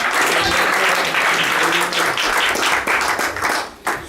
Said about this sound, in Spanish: Déjenle ese aplauso al Señor.